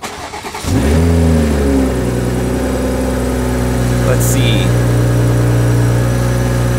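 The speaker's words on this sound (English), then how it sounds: "I just want to turn on the car because we're definitely gonna have an exhaust leak, so the car's gonna be loud" A worn Toyota Supra with an exhaust leak cranks and fires up, then settles into a loud, steady, droning idle close by, while a person murmurs briefly at the start.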